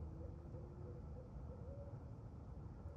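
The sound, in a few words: barred owl hooting outdoors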